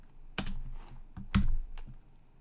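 Keystrokes on a computer keyboard while entering Arduino servo code for an Adafruit L293D motor shield: a few sharp, separate clicks spaced irregularly, close and fairly quiet, with no talking.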